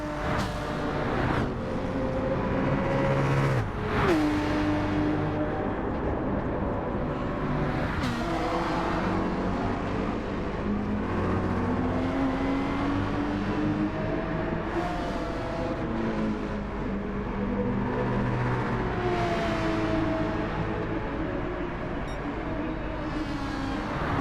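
Race cars in Gran Turismo 7 at Dragon Trail Gardens braking and accelerating through a tight hairpin, several engines layered with revving pitch sweeps, loud and continuous throughout.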